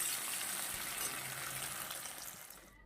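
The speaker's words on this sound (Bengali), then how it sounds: "আমি এখানে দুটো টমেটো দিয়েছি এটা সুন্দর করে ভেজে নেব" Two tomatoes frying in hot oil in a home kitchen pan, a soft, faint hiss of sizzling that holds steady and then tapers off, with no talk.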